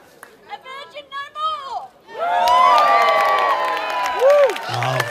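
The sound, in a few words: festival crowd yelling and cheering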